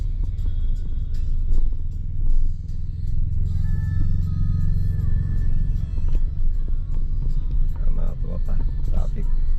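Heavy road traffic crawls across the long Buntun Bridge in Cagayan Valley, a continuous low engine rumble with passing vehicles and occasional higher mechanical whines, while people talk over it throughout.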